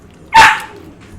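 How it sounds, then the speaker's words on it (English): A dog gives one loud, short bark close by in a quiet room, followed by a faint trailing whine. "My dog barking."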